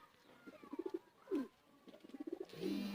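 Teddy pigeons kept by a breeder in Sialkot coo softly up close in several short, rolling bursts, with a few quieter gaps between the throaty calls and no voices.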